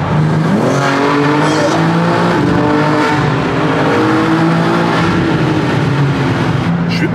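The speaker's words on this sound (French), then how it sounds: "Le bruit quand t'accélères là" A tuned BMW M3 with 912 horsepower accelerates hard, its engine note climbing through several gear changes, loud and continuous as heard from inside the car, with voices talking faintly underneath.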